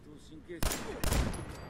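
Gunfire in the Fallout 4 video game: two sharp, loud bursts of shots closely follow a brief stretch of quiet voice.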